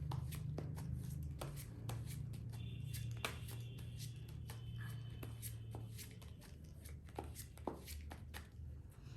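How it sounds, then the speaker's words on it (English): Tarot cards from a Rider-Waite deck being shuffled close up, a steady run of soft riffling and papery taps with sharper card snaps, over a low continuous hum. "So just think about your person while I shuffle the cards for you."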